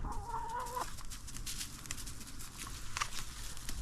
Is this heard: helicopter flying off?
no